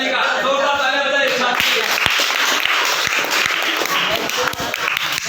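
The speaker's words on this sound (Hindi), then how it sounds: "दो बार तालियां बजाइए" A ninth-grade class bursts into brisk, dense clapping during a classroom alphabet activity. A voice talks briefly at the start before the clapping takes over and carries on steadily to the end.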